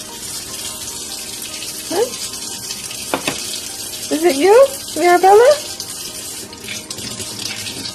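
Cold water running from a sink tap, a steady hissing splash under a voice that speaks briefly, with a child's high vocal sounds rising over the flow midway.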